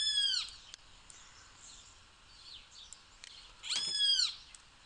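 Birds outside chirp in short bright bursts, a quick call at the start and a louder flurry near the end, faint and somewhat distant over a quiet room.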